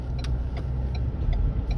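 Cars crawling through a slow traffic jam, a steady low engine rumble close by with faint idling throughout and brief higher clicks or chirps.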